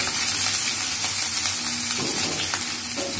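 Chopped ginger fries on a low flame for khichuri, making a steady, close crackling sizzle with soft stirring scrapes and no talking.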